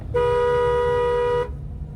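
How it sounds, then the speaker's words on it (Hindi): A single sustained car horn blares for over a second in bumper-to-bumper city traffic, loud and steady, over a low rumble of engine noise. "लॉन्ग हॉर्न प्रेस करो"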